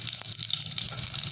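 Cumin and mustard seeds hitting hot oil in a pan, a steady close hiss and sizzle with no break, lasting only a moment.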